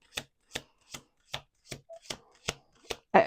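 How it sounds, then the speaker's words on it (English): A deck of cards is shuffled with about eight crisp, evenly spaced riffling snaps, close and quiet, followed by a louder burst at the end. "Last shuffle."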